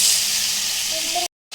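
Chopped duck meat hits a pan already holding fried tomato, green chilli and ginger-garlic paste, giving a steady loud sizzle that runs unbroken before cutting off abruptly into brief silence.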